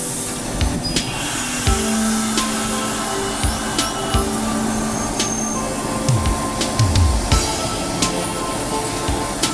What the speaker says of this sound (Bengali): রূপসা এক্সপ্রেস ট্রেনটি ধীর গতিতে আব্দুলপুর জংশন ত্যাগ করছে শিলাহাটির উদ্দেশ্যে